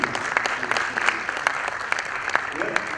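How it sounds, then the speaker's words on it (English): Audience applause at a film talk, a moderate round of clapping with distinct individual hand claps standing out in an irregular rhythm, with some speech-like sound mixed in. "Goya is, by the way, a huge round of applause."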